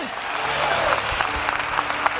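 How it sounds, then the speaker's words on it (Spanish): Applause rises from a church congregation during a Christian worship sermon, a dense, steady patter of clapping that holds through the short stretch, with faint voices and a low sustained tone beneath it. "Dale un aplauso al Señor."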